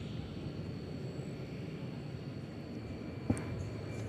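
Spirit Airlines Airbus A320neo at an airport at night, a steady distant engine roar with a brief sharp knock near the end.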